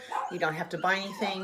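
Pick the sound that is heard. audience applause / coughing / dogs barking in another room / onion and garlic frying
dogs barking in another room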